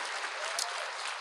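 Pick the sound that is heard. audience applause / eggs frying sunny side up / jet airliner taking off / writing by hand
audience applause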